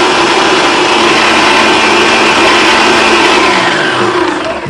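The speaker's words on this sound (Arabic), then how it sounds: "هنزل عليها السكر بس هضربها بس دقيقة" Electric mixer beating butter and sugar together in a home kitchen for red velvet cake batter, a steady loud whirring motor hum holding constant throughout with no talk.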